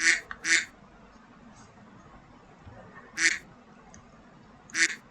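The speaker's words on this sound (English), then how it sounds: "Tekan the duck sound effect" Three short bursts of duck quacks from a sound-effect button in a live online session, each a quick double or single quack standing alone over a quiet background hum.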